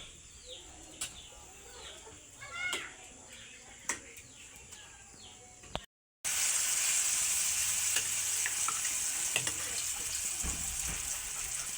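Eggplant and egg frying in a pan: a steady, fairly loud sizzle begins partway through, after a quieter stretch where birds chirp in the background.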